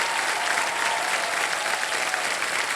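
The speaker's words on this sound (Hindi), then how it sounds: "और एक बार जोरदार तालियां बज जाएं इनके परिवार के लिए" A studio audience on the Kaun Banega Crorepati quiz show claps loudly and continuously, a thick, even wash of many hands that fills the room without pause and with no speech over it.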